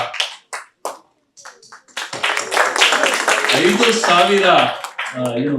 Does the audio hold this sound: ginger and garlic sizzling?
no